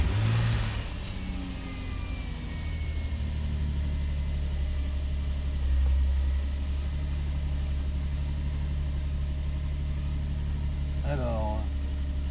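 Nissan 350Z engine cranks and catches at the start, then settles into a steady, deep idle with a low, even rumble; a brief blip or rising tone near the end, recorded close to the car.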